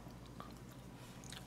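Close, quiet chewing of tender, pre-boiled pork from braised kimchi stew, soft wet mastication with a faint bite near the middle and a few sharper crunchy clicks toward the end, with no talking.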